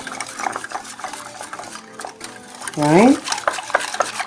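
Chocolate pudding mix whisked in a bowl, quick scraping and clinking strokes, with a person speaking briefly.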